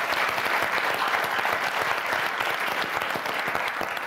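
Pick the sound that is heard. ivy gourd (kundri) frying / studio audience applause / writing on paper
studio audience applause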